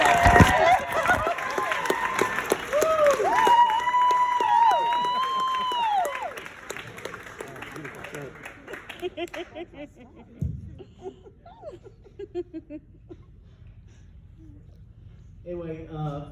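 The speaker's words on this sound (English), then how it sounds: "So we please give a nice round of applause to Hannah Landau." Audience at a stand-up comedy show applauds and cheers for a comedian, with a whistle and whoops over clapping in the first seconds, then the crowd quiets into scattered laughter and a few isolated claps.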